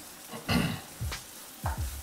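Tomato paste cooks in a hot pan with a soft sizzle, broken up by three short bursts of stirring and scraping.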